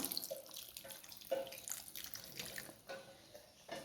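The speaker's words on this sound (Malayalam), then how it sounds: "നമുക്ക് കുറച്ച് ചൊറുക്ക് ഒഴിച്ചു കൊടുക്കാം" Vinegar poured into homemade lemon pickle, a quiet liquid trickle and splash with a few faint drips and small clinks, close and alone with no talking.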